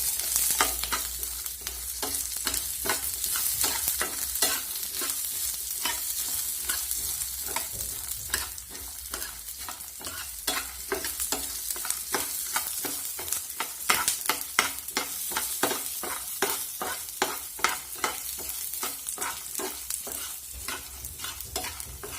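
Chickpeas and garlic are dry-roasted with coconut in a pan, a soft sizzle under a long run of quick, rhythmic scrapes as a spatula keeps stirring.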